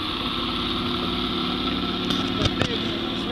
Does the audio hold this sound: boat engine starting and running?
yes